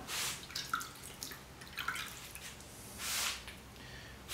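Raw glaze dripping off a ceramic pot in a pottery studio, a few faint soft drips and splashes spread over a few seconds in a quiet room.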